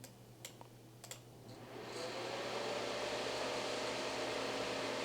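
Fans of a Gigabyte Radeon RX 9060 XT Gaming OC 16G graphics card spin up to maximum RPM after a few faint clicks, then hold a loud, steady airy whoosh to the end.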